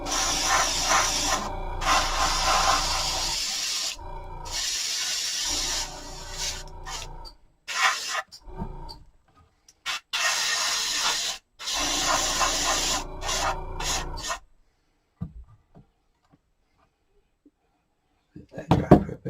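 Spray paint hisses in repeated bursts of several seconds each while the doors and windows of a model courthouse are coated dark gray, broken by short pauses, then quiet near the end.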